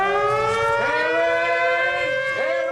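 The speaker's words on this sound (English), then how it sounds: "The sound of the air raid siren was a warning that German planes were nearby." A wartime air raid siren, warning of German planes nearby, wails loud and close, its tone sweeping up and down in a continuous rising and falling howl with no voices.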